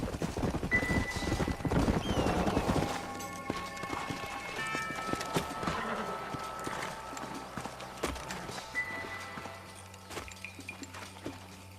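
Hooves clip-clop in a quick trot, nearby and then fading, with a horse snorting and a faint jingle of tack, in the video game Red Dead Redemption.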